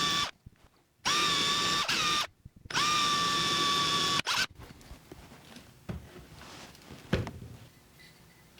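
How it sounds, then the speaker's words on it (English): A power drill bores holes through plaster from the inside of a slip-cast pot, with two loud, high whining bursts separated by short silences, then quieter scraping and handling noises. "I can actually drill from the inside to the out."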